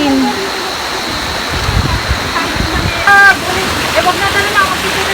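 Waterfall on the Upper Aberdeen Nature Trail in Hong Kong, a loud, steady rush of falling and splashing water close by, with voices talking over it.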